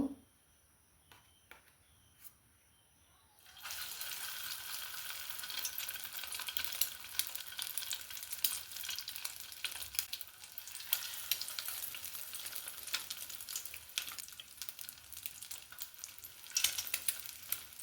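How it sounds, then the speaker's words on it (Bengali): Boiled eggs coated in batter drop into hot oil in a kadai and fry with a loud, steady, crackling sizzle that bursts in after a few quiet seconds and holds close and continuous. "এবার এই ডিম ব্যাটারের মধ্যে দিয়ে আর তেলের মধ্যে ভেজে নেব"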